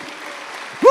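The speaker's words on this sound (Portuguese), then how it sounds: "Pode aplaudir." Congregation applauding in a church service, a steady dense clapping wash for under a second, with a voice briefly rising at the end.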